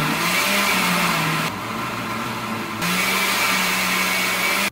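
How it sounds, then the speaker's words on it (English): A blender whirs loudly as it blends a shake, a steady motor drone whose pitch dips and rises as the load shifts, pausing briefly in the middle before running again and cutting off abruptly at the end. "Now we got our shake, blend it up."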